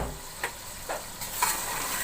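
Boiled mutton and potatoes fry in a pot, with a low steady sizzle and a few soft scrapes of the spoon as the mix is stirred.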